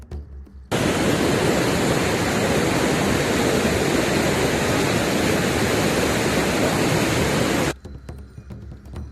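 The Mandakini river near its source on the Kedarnath route rushes in a loud, dense, continuous roar of water that cuts in abruptly and stops abruptly near the end.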